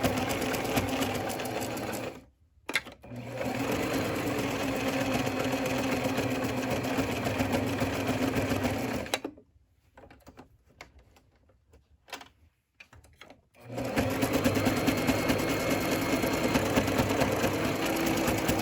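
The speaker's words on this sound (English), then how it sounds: "machine was skipping stitches because this is a lot of fabric, so I just went over that a second time" Sewing machine stitching through thick layers of fleece for a rat cage liner, a fast steady mechanical whir running close and loud in long stretches, broken by short pauses and stop-start bursts.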